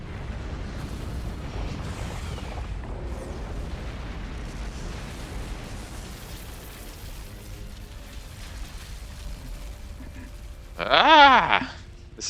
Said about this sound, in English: Luray, Lemur, firing anti-aircraft lasers.